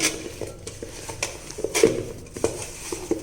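Pesara avakaya pickle pieces being mixed in a metal vessel, producing irregular close clinks and scrapes of a utensil against the pot, with no voices.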